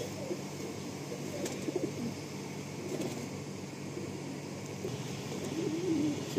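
A flock of tiger line pigeons keeps up a continuous low cooing, near and moderately loud, with a few light taps and a rising burst of calls toward the end.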